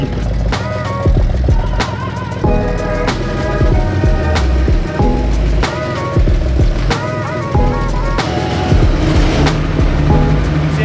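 An old Jeep's engine runs nearby as the vehicle rolls in reverse with the brake held, a loud, rough rumble broken by repeated sharp clunks and knocks at irregular intervals.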